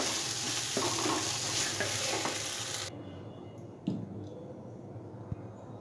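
Dal cooked with goat liver is stirred and fried with spices, giving a loud, steady sizzle for about three seconds that then drops to a quieter sizzle with a few soft scraping clicks.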